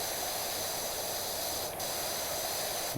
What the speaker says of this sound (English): Look how fast I can spray that down.